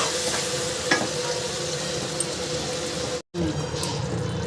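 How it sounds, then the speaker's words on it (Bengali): Prawn and potato curry gravy bubbles and sizzles steadily in a pan, with a few sharp clicks and a brief silent gap near the end. "এবার আমি ঝোলটাকে ফুটতে দেবো"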